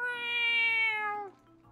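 A single drawn-out cat meow from the Friends of Mineral Town farming game, clear and tonal, sliding slightly downward before fading into a quiet background.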